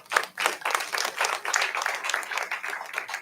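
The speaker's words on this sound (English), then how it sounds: "please give yourselves a round of applause" Audience applause at a spring festival gathering, a steady wash of many hands clapping at moderate volume, fairly close, continuing for a few seconds.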